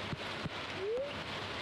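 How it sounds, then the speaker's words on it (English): Steady rain falls in the farming game Stardew Valley as a soft, even hiss, with a couple of faint taps and a brief tonal sweep rising through it. "Alright, so it's raining."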